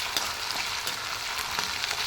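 Chicken with ginger-garlic paste fries over a low flame, a soft, even sizzle with faint crackles, quiet and alone.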